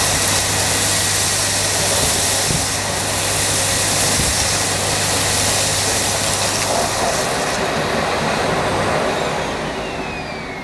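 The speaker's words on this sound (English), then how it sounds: "I'm going to pull the nozzle backwards through the dirt to see how well it cleans in one reverse pass first" A Miele C1 Classic Powerline cylinder vacuum cleaner runs with a loud, steady suction roar and low hum as the nozzle pulls through scattered dirt, easing off slightly toward the end.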